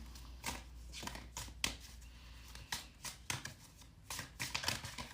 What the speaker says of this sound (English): Okay, I did like a full waterfall shuffle there.